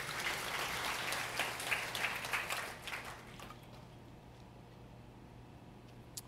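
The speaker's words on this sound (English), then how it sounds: "give the Lord a clap for that" A church congregation claps at a sermon, a burst of dense applause that fades out after about three seconds into quiet room tone with a low hum.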